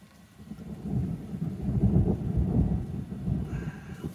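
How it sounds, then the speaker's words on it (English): Thunder from a lightning storm rumbles low and steady for a few seconds, a deep rolling swell with no voices over it. "We came here and then there was a lightning storm and now it happened again."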